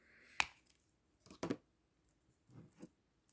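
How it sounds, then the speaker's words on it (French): Plastic wrapping on the back of a small artificial flower is cut, giving a few soft, separate snips and crinkles spaced over a few seconds in a quiet room. "Je coupe le plastique derrière."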